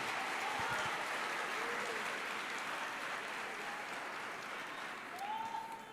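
Congregation applauding during a church worship service, a continuous wash of clapping at moderate distance that holds steady throughout, with faint voices and a brief tonal sound underneath.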